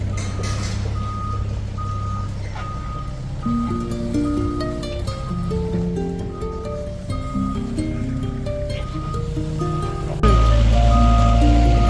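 Backup beeps from a truck being reversed into a corner at the Uturoa port on Raiatea, a steady repeating tone over engine rumble, with a louder engine surge near the end.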